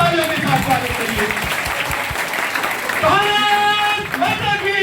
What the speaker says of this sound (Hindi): इसके लिए जोरदार तालियों के साथ स्वागत करिए।